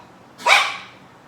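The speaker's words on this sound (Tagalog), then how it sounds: "maingay ang aking aso" A single sharp dog bark, fairly close and clear, ringing briefly before fading into quiet.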